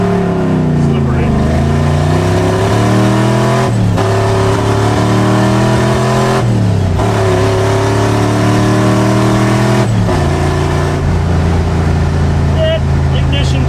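A $2500 sleeper wagon's engine revs hard and loud, climbing repeatedly with brief dropouts where the ignition cuts out, each rev falling back before rising again.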